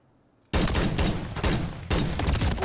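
Sudden bursts of rapid automatic gunfire in Modern Warfare 3 multiplayer burst in after a brief quiet, dense and loud, continuing in sustained volleys.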